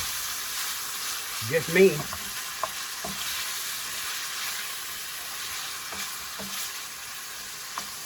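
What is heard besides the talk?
garlic frying in a pan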